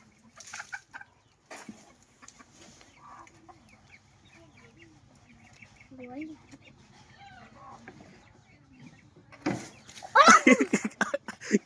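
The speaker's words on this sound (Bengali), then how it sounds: "কয়টা মুরগি আছে?" Chickens cluck softly in a yard, scattered low calls coming and going, then a burst of louder, agitated clucking and flapping near the end, with occasional voices in the background.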